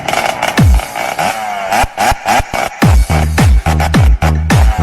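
Motorcycle engine revving in repeated loud bursts with sharp pitch swoops between throttle blips, used as backing for a short TikTok skit, with no talking.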